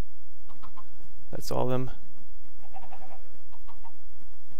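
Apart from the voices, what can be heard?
chickens clucking in a video game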